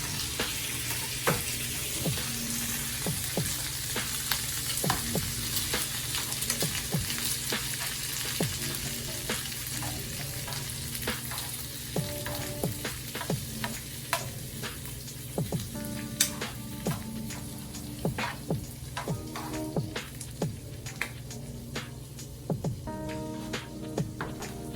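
Tomatoes sizzle and char in a hot pan with a steady broad frying hiss, punctuated by frequent crackles and pops and occasional utensil clinks, close and continuous with no voices.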